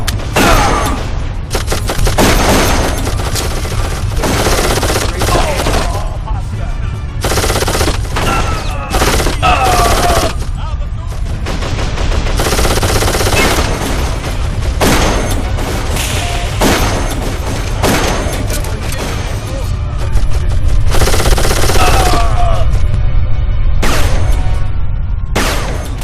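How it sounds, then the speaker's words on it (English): Automated turrets fire in the video game Darkest of Days, a loud, dense barrage of rapid gunfire with heavy booms and thuds continuing without a break for the whole stretch. "Those auto turrets will tear you to pieces!"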